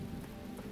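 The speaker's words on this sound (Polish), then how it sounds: "tu mamy jakiś deszczyk" Steady rain falling in a level of the video game The Talos Principle, a dense, even hiss of drops on surfaces with no gaps, faint and constant throughout.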